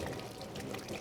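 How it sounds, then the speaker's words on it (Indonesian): Water runs steadily from an open tap for handwashing, a constant close splashing rush with no talk. "Pertama kita buka dulu keran airnya"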